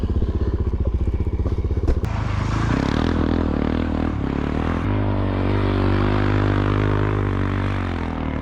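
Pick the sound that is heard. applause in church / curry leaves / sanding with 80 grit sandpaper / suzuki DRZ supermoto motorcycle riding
suzuki DRZ supermoto motorcycle riding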